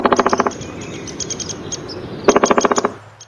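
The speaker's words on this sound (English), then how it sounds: "Woodpecker." Woodpecker sound, with two bursts of rapid, evenly spaced knocking drumming at the start and again later, separated by a stretch of scattered faint chirps over outdoor background noise.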